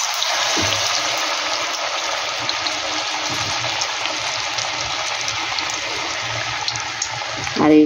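Potato snacks sizzle and bubble in hot oil, a steady, close, broadband frying hiss that runs throughout with a brief louder rustle at the end.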